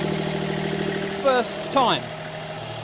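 A refitted E20 engine runs at a steady idle, close and loud, with a constant low drone throughout; two brief voices rise over it partway through.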